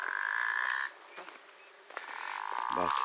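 Frogs croaking in a traditional mud-built village in Oman, a loud continuous trilling chorus that stops briefly, then resumes, with a deep close croak near the end and no speech.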